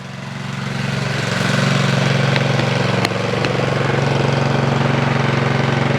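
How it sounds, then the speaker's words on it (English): A snow blower engine idles while warming up, a loud, steady low drone that rises over the first second and then holds even, with a brief click partway through. "We're gonna let it warm up real quick."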